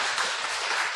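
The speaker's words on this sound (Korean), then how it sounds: "박수라도 좀 쳐주셔" Applause from a church congregation for its youth group during an anniversary worship service, a steady broadband wash of many hands clapping throughout, fairly loud and even with no pauses.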